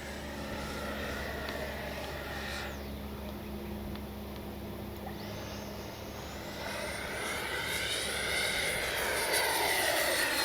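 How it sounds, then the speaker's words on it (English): A HobbyKing Viper 64 RC jet roars past with a steady, high ducted-fan whine that swells and shifts in pitch as it makes a fast speed pass overhead, growing louder toward the end. "Oh, what a great flying little 64. It's a great sounding plane"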